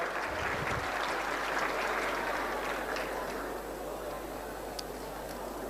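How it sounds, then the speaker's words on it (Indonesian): An audience of university students claps at an Islamic lecture by a speaker at UMJ. The applause is dense, steady and moderately loud from start to finish, with faint voices mixed in. "Berikan tepuk tangan, berikan plus untuk semua"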